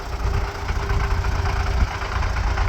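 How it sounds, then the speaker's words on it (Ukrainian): A ZIL truck's engine runs steadily at close range, a low rumbling drone with a faint whine of the turbo sitting above it throughout. "Тільки турбінка підсвистує."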